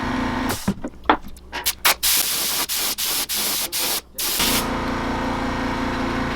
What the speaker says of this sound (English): spraying isopropyl alcohol and airbrush cleaner through the brush a bunch